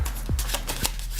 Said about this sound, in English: So I just give the cards a shuffle and keep going here.